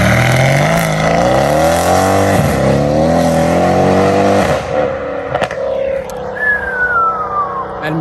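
A Mercedes-AMG C63 S with a full straight-through exhaust accelerates hard. Its loud, rising engine roar climbs through the revs for about five seconds, then lifts off into quieter burbles and a fading whine.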